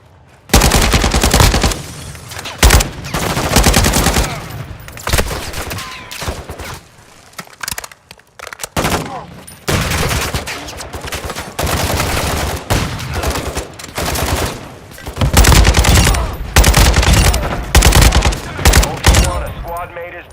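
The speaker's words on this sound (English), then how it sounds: "Taking effective fire!" Automatic gunfire in Call of Duty Warzone 3 DMZ, including SPX-80 shots, rattles in loud, sustained bursts with short pauses between them, close to the listener, while a radio voice speaks briefly.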